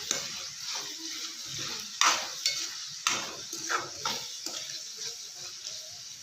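Vegetable pasta with coriander powder, pepper and garam masala stirred in a hot pan, a steady soft sizzle under repeated scraping and clinking strokes of a spoon against the pan, close and alone.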